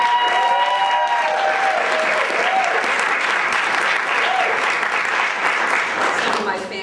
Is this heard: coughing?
no